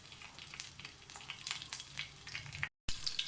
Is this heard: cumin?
yes